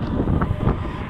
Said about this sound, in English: It's quite windy but very mild.